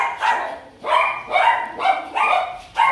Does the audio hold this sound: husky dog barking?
yes